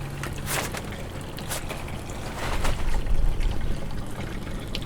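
Water trickles and splashes steadily from the leaking gray water tank pipe under a van, a close, continuous patter that swells louder toward the middle before settling.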